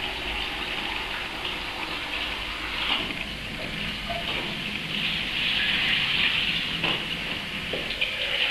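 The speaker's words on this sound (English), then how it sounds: "So we just add in our water." Water pours into a stock pot in a steady, loud gushing stream. The splashing and rushing runs continuously, close by, with no talking.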